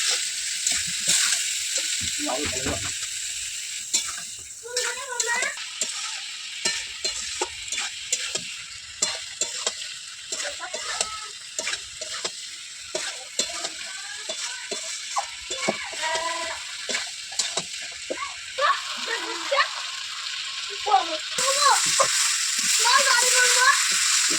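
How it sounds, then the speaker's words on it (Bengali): Fried puti fish stirred with mustard paste in a pan, a spatula scraping and clattering in irregular strokes over a faint sizzle, with some voice sounds in between. "ভাজা মাছগুলো দিয়ে দিলাম দিয়ে সামান্য পরিমাণ সর্ষে বাটা মাছের মধ্যে দিয়ে দিলাম দিয়ে নেড়ে দেবো"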